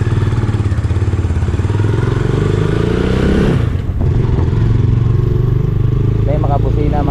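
A motorcycle rides along a road in Talisay, its engine droning steadily up close with a brief dip mid-way as the rider shifts, while a person talks over it.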